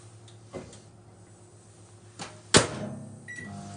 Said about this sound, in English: We are going to pop this into the microwave.